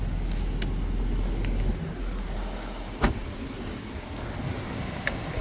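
Power windows of a 2017 car running up and down inside the cabin, a steady motor whine with brief clicks as each window stops, alone without talk.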